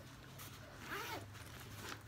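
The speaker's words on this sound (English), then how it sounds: "But this zipper pull is the metal one" The metal pull of a zipper on a Kipling bag pocket slides open in a short, quiet rasping run near the middle, with faint handling noise around it and no talk.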